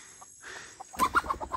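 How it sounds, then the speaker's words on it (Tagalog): A chicken at a house yard in the Philippines gives a quick run of several close clucks after a second of faint background noise. "Alam, may manok."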